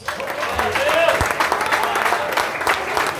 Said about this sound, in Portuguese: Quantos podem dar salva de palmas para Jesus?